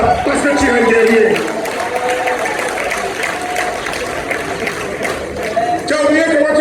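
A crowd claps for themselves at a motivational gathering, scattered applause and voices mixing loudly under a speaker's talk.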